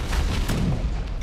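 Cannon fire in the airship combat game AirBuccaneers, a dense, loud burst of booming blasts filling the short moment with no talk over it.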